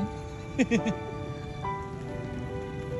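Rain falling steadily during a trip in Ilocos Norte, with flooding around, a soft constant patter close by under brief voices and a faint tonal hum.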